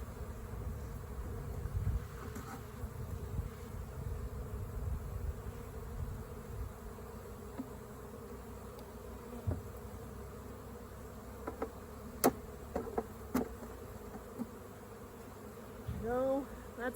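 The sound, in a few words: honey bees buzzing around a beehive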